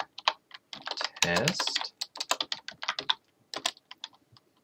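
Fast bursts of computer keyboard typing, close and clicky, with short pauses between runs and a brief spoken word partway through.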